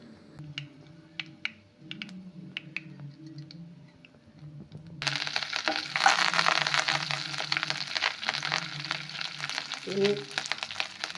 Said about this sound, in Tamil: எண்ணெய் காய்ந்ததும் கடுகு கறிவேப்பிலை ரம்பையிலை போட்டு தாளிக்கவும்